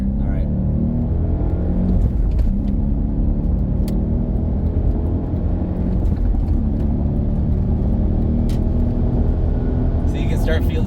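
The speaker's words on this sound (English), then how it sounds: "V8. Now get it to the higher RPMs." An Audi S4 V8 pulls hard toward high RPM, a loud, deep, continuous engine rumble heard from inside the car. Voices are likely present under the drone.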